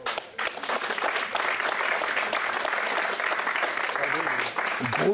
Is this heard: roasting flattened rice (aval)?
no